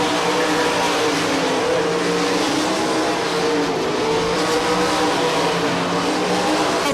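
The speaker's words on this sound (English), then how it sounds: "Dover's caught up to the back of Johnson off of turn number 2" ASCS sprint cars race around a dirt oval, their engines roaring loud and continuous with rising and falling pitch as the pack sweeps through the turns.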